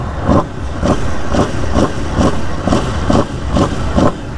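A 2022 Aprilia RSV4 sport motorcycle with its stock exhaust, revved in repeated short blips over idle, about eight evenly spaced throaty bursts, loud and close.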